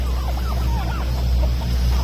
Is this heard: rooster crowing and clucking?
yes